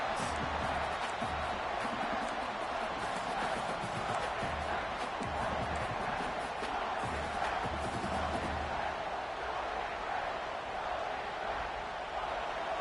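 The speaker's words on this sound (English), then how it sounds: "This crowd bringing the energy and noise early." A football stadium crowd during a college game between Michigan State and Nebraska, a steady loud roar of cheering and shouting that fills the whole stretch, with a commentator's voice running over it.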